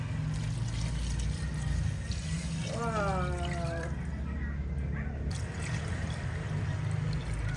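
Water runs steadily into a cooking pot for sinigang, a continuous close splashing wash throughout, with a brief exclamation from a voice partway through.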